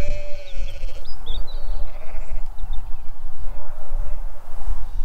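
Sheep bleating in an open field, several calls at varied distances over steady outdoor rumble and wind, with a faint voice in the background.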